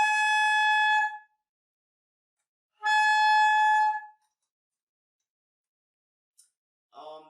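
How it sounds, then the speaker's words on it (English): Two sustained high saxophone notes, altissimo F played with an alternate fingering, each held about a second with a pause between, clear and loud, then a faint click and a short burst of voice. "you just release this finger and this is your alternate fingering for key F."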